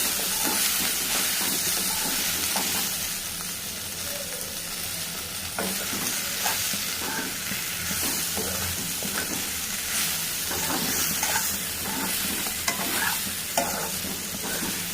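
Garlic and cluster beans fry in a pan with a steady, close sizzle and hiss, broken by frequent scraping stirs, with no talking throughout.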